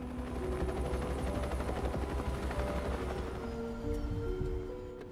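Helicopter flying in a film scene, a steady loud rotor drone with a rhythmic low thumping that carries throughout and eases off slightly at the end, with no voices.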